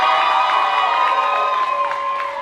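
Audience applause mixed with cheers and whoops rises for competitors at a cosplay masquerade awards event, with sustained shouted voices riding over the clapping throughout.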